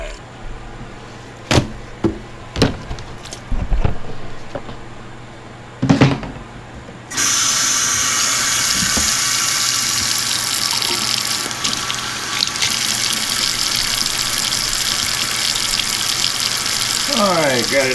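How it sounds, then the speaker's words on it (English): Warm tap water gushes steadily into a sink to rinse a rainbow tie-dye tee, following several sharp knocks and handling sounds, and runs loud and continuous to the end. "I'm going to start rinsing it out with some warm water."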